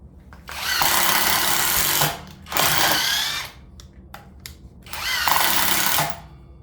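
Greenworks 24V cordless drill/impact driver driving 2-inch construction screws into wood that is not pre-drilled, heard in three fairly quiet, steady whirring bursts of about one to two seconds each, separated by short pauses.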